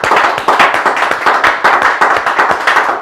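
A crowd at a direct selling training seminar claps loudly and steadily, many hands beating in a quick, even rhythm that holds for several seconds without speech.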